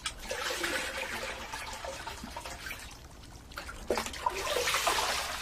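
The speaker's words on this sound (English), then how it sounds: "Sangoro's wife, Chikano, washes the fish salted in spring." Salted fish washed by hand in water at a Japanese satoyama farmhouse: continuous splashing and sloshing, close and fairly loud, swelling again near the end.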